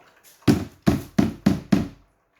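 An espresso puck is knocked out of a portafilter on a VBM Domobar Super Electronic machine: five sharp, close wooden-sounding thuds in a steady rhythm, then silence.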